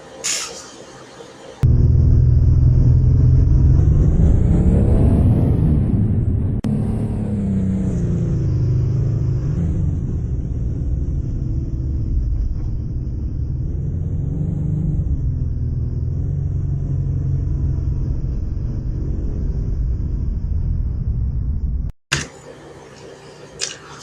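A car engine rumbles loudly and steadily as the vehicle drives off, a deep low drone with slight rises in pitch as it accelerates, framed by short bursts of other sound at start and end.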